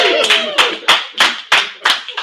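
An auction crowd at a school's 40th birthday party claps in bright, sharp bursts, about seven close loud rhythmic volleys with some vocal cheering mixed in.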